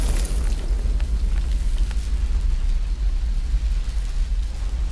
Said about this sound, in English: I don't know what I'm doing, but it's making explosions.